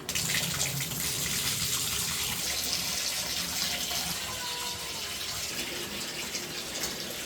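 Steady running water from a tap filling a basin to bathe a Sphynx cat, a continuous close hiss and splash with no talk.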